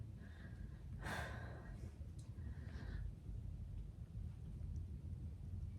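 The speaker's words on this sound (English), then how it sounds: "You hear me breathing out after each rep." One sharp, heavy exhale bursts out close by after a squat rep, followed by a couple of softer breaths over a steady low rumble.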